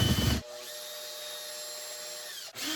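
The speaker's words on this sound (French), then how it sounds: "je vais venir visser" An electric screwdriver drives a screw into plasterboard to mount a mirror, a steady high whine lasting about two seconds, framed by short bursts of handling noise before and after.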